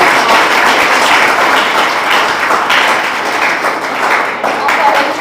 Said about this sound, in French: Nous applaudissons madame.